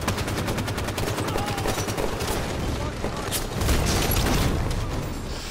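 Enemy gunfire in the Halo 5 video game, dense overlapping automatic bursts and rattling shots with a few heavier hits, loud and continuous throughout.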